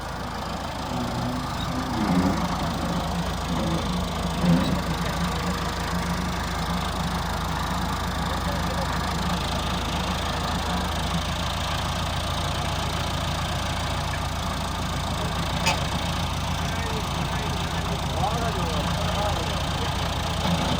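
A tractor engine idles and runs at a low steady rumble on muddy ground, close by and continuous, with people talking over it.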